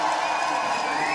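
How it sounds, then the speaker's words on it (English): Cheering crowd at a CrossFit Open announcement, a brief loud continuous roar of voices and whoops filling the space, with no individual speech. "This is a hyped crowd, one of the loudest ones we have ever seen for an open announcement."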